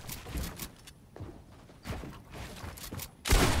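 Gunfire in Fortnite Battle Royale comes as sharp broadband bursts and short volleys at irregular intervals, the loudest crack at the very end, with no talk over it.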